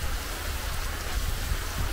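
Steady rain in Panama pattering densely on a surface, a continuous hiss with scattered drops and no voices.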